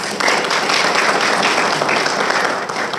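An audience at a university luncheon applauds the alumni president, dense and steady clapping that fills the room briefly before easing off.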